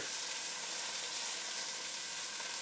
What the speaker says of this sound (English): we're just going to sear off this beef chuck